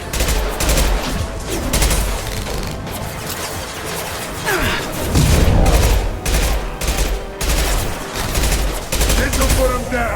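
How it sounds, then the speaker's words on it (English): Heavy gunfire from a Mass Effect: Legendary Edition firefight during a plague quarantine mission, a dense run of loud shots and impacts with crashing bursts, continuing steadily throughout. "Firing an impact shot!"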